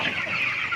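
Broiler chickens cluck in a brief, busy burst, several birds close together and loud against a steady background hum.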